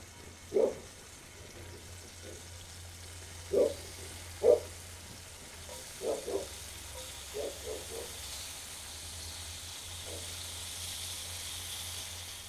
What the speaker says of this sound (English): I got me another batch of jawl bacon in the skillet